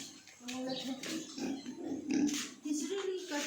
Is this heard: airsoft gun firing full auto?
no